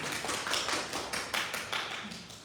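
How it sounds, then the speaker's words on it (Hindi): A small group claps together in a pregnancy exercise class, a soft patter of quick hand claps lasting a couple of seconds at low volume with no talk over it. "बहुत सुंदर, ताली बजा दो इसके लिए।"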